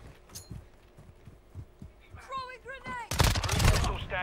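Gunfire from a gold SPR sniper rifle in Call of Duty: Modern Warfare 2, with footsteps and chirping effects before a sudden loud burst of shots near the end, while a player talks over the game.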